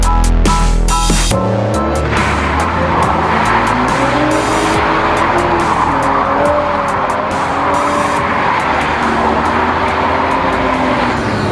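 A Nissan Skyline R32 doing a burnout on worn tires: engine revs hard, then a long loud tire squeal with a wavering engine tone, steady and close throughout, no talking.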